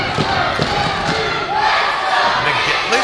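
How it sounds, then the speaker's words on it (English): Crowd at a professional wrestling title match roars and cheers throughout, a loud dense wash of voices with thuds from the ring, while a commentator talks over it. "Listen to this crowd, guys."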